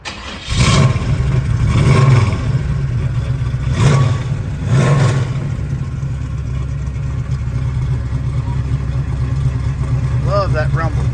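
A 1966 Chevrolet Nova SS engine cranks and catches, then revs loudly in several deep surges before settling into a steady, rumbling idle, heard up close.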